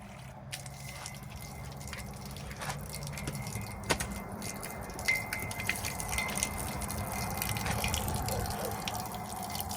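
Water trickles and drips steadily into a container as it drains from the engine of a Chevrolet S10 in place of oil, a soft continuous pour with scattered small splashes, growing slightly louder toward the end.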